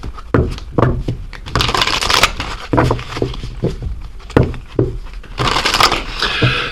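Oracle cards are shuffled by hand in repeated rustling, riffling bursts with crisp snaps, loud and close, continuing without pause and with no voice over them.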